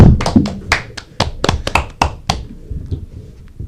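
A few people clap in a small room, a brief scattered round of applause with sharp, uneven claps that thin out over a few seconds, recorded close and fairly loud.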